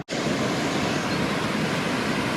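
Several waterfalls at a scenic spot in Bosnia pour in a steady, loud, broadband roar that fills the whole stretch without pause, with no voices over it.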